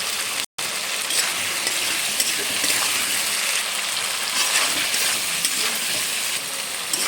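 Coriander and cumin paste sizzles steadily in a hot pan as it is stirred, a dense, even frying hiss that runs continuously apart from one very brief break near the start.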